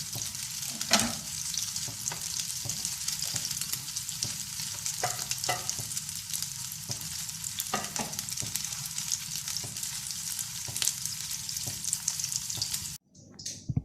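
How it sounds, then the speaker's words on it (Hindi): Chapli kababs fry over a low flame in a pan, a steady close sizzle with occasional sharp crackles and pops running throughout, ending in a brief dip. "ये चपटी कबाब फ्राई हो गए हैं"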